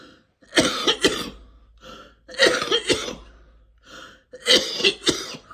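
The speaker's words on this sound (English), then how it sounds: "And I should be coughing like this." Three loud bouts of harsh coughing, each a cluster of two or three coughs, close to the listener with short breathing pauses between.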